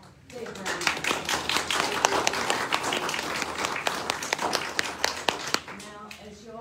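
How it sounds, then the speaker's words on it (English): Audience applause at an artist talk, a lively burst of clapping with distinct sharp claps, rising quickly and sustained for several seconds, with a voice faintly beneath near the end. "So give her a big round of applause."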